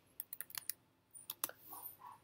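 Quick bursts of clicky keystrokes on a computer keyboard, a fast run of taps, a short pause, then a few more, close and alone without talk.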